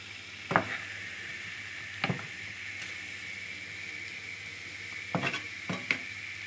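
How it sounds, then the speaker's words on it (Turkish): Mushrooms sauté with chicken in a hot pan, giving a steady close sizzle, with a few sharp utensil scrapes and clinks as the pan is stirred. "Mantarlar hafif sönene kadar soteliyoruz."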